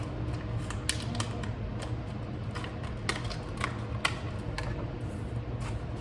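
Scissors snipping the top off a plastic cup: a run of sharp, irregular clicks and small crackles, close up, over a quiet background hum.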